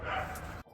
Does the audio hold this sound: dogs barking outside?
yes